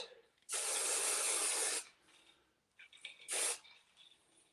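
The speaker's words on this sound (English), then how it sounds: "I can take this section and I can just spray it" Hairspray from an aerosol can sprayed onto a section of hair during styling: one long hissing burst of about a second, a pause, then a shorter second burst, close and clear.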